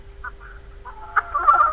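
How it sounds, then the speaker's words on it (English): A chicken on a farm gives a few brief clucks and squawks at moderate distance over a quiet background, the last call more drawn out. "That funny looking chicken right there, Sly."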